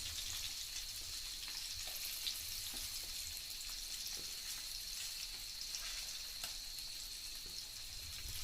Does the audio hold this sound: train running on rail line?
no